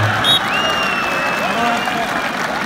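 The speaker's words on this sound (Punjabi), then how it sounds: "ਹੁਣ ਤਾੜੀਆਂ ਮਾਰਨੀਆਂ ਪੈਣੀਆਂ" Spectators applauding at a kabaddi semi-final match, a continuous dense wash of clapping and crowd noise with a few whistles rising above it.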